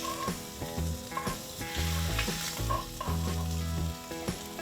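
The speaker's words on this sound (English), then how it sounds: "All right, so the steak is in the pan." Steak sizzles and fries in a cast iron pan on a Big Green Egg grill, a steady crackling hiss with harmonic tones running through, loud and alone with no voices.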